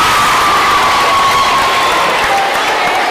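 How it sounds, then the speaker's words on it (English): A debate audience in the UK claps and cheers loudly after a speech, a dense, continuous wash of applause with scattered whoops and shouts throughout. "Round of applause."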